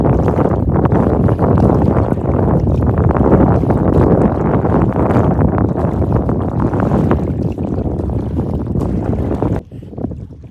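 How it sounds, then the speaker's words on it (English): A solo canoe paddled across a lake in fall, heard as continuous broadband water wash and wind noise buffeting the microphone, fairly loud and steady, with no distinct paddle strokes standing out. "I was just paddling across, looking around"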